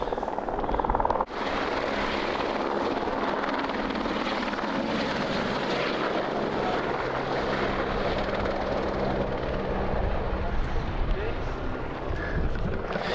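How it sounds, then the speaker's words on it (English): A helicopter drones steadily and loudly throughout at the Aconcagua base camp, its engine and rotor noise filling the background with no clear gaps. "People flying out of base camp on the helicopter."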